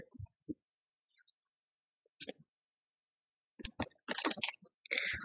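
A computer mouse clicks through options in CapCut on a PC. There are sparse, faint single clicks with long quiet gaps, then a closer, busier cluster of clicks and rustling handling near the end.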